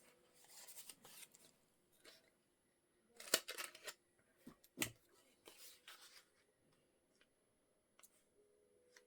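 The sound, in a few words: scissors trimming paper seed packet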